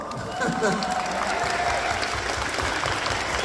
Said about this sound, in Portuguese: Aplausos, pessoal!